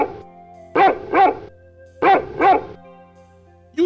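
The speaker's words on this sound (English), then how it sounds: "All dogs like to bark." A dog barks in two quick pairs of loud, close barks, with a fifth bark starting at the end, over a faint hum.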